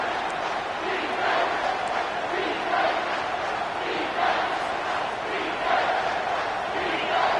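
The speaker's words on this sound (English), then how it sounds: "Here comes this home crowd as the defense tries to get off the field on 3rd down" A home crowd roars in the College Football 25 video game as the defense faces third down, a dense, sustained stadium din that rises and falls in rhythmic surges with chant-like swells.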